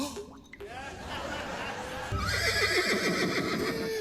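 A horse neighs during a stage musical, a shrill, wavering whinny that rises over a busy, noisy stage backdrop, with a quieter stretch before it.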